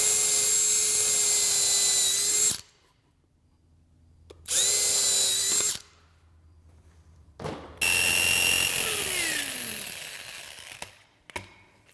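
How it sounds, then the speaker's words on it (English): A power drill bores starter holes for a jigsaw in a nail pad, running in three loud whining bursts with short pauses between, the last one slowing and dropping in pitch as it winds down. "I'm going to drill a couple holes in here so I can have a starter hole for my jigsaw"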